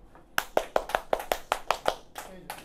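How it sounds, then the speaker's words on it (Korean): Students in a high school chemistry class burst into a quick run of about nine rhythmic, close claps in unison after a short pause, then the clapping trails off into softer room noise. "박수!"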